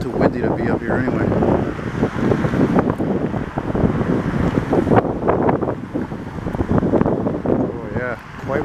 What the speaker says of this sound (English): Too windy to be up here anyway